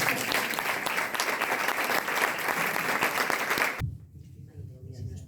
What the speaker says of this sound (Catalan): Un altre fort aplaudiment.